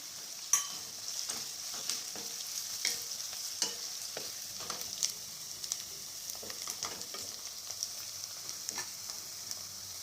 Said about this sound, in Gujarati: હવે આની અંદર આદુ અને લસણ ઉમેરીશું, એને પણ આપણે આ રીતે આમાં જ શેકી લઈશું